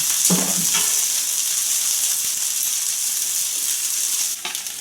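Oyster pancake crisping in hot oil in a pan, a steady close sizzle and crackle with a few louder spatters near the start and a brief scrape near the end.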